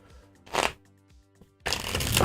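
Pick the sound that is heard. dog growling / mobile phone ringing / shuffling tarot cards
shuffling tarot cards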